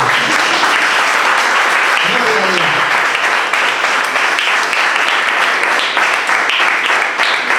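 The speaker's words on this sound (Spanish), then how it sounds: "Hay veces obedientes que le puedan dar un aplauso al Señor." A church congregation applauds in a loud, continuous wash of clapping, with a brief voice rising above it early on before the clapping carries on steadily.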